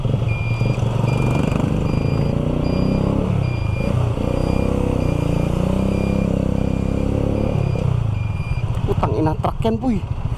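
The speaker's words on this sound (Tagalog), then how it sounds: "Truck yan boy." A truck rumbles nearby in congested street traffic, its heavy engine droning with shifting tones amid other vehicle noise and a repeated reversing beep, while voices talk over it toward the end.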